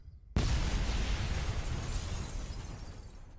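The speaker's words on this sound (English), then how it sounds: "Explosion." A loud explosion effect from the Jackbox party game bursts in abruptly after a moment of near silence, then a dense rumbling blast slowly decays across the rest of the clip.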